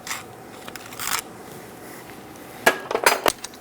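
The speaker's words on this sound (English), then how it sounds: "Make sure these jaws actually clamp on tight." Steel jaws of a pitman arm puller clanking and clicking as they are clamped onto a rusty pitman arm on a 2007-2014 Chevrolet Silverado 2500 HD, with a few close metallic clinks around one second and a cluster of sharper taps near the end.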